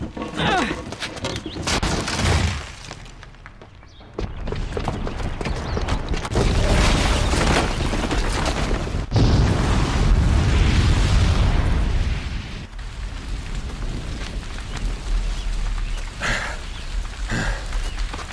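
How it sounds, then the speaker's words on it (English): A bomb blast in the video game Horizon Zero Dawn, set off by a booby trap downstairs. It comes as a loud, sustained rumbling explosion with bursts and debris that swell and fade over many seconds, with no talk. "the booby trap on the bomb downstairs is gonna get set off"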